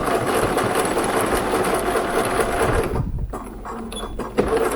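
A sewing machine stitches an apron-style wrap dress along an existing stitch line, a steady close mechanical whirr that stops near the end, leaving faint small handling noises.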